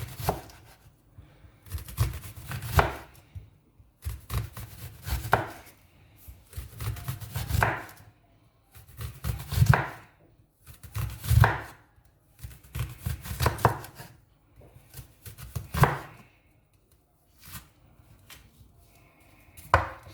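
Onions are sliced into rings on a board with a knife, in repeated clusters of quick close chops separated by brief pauses, with no voices.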